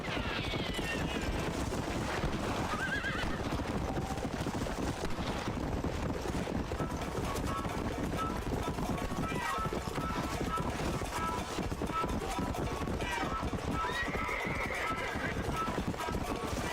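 In the Red Dead Redemption video game a horse moves at a steady clip-clop of hooves, with snorts and a neigh rising over constant wind and ambient noise, while someone talks over it.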